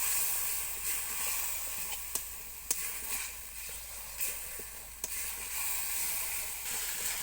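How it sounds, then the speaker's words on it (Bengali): Spice masala sizzles in a pan after a splash of water, a steady hiss and fizz with a few sharp spatters and stirring clicks, close and moderately loud with no talking. "জল দিয়ে ভালোভাবে মশলাটা কষিয়ে নিতে হবে।"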